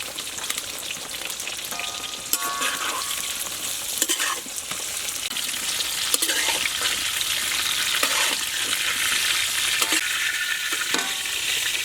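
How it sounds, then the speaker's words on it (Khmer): Pig leg is stir-fried with pickled mustard greens in a hot pan: a continuous loud sizzle broken by repeated scraping stirs of the spatula, with no voices. "បន្តមកទៀតខ្ញុំចាប់ផ្ដើមដាក់ស្ពៃជូរចូល"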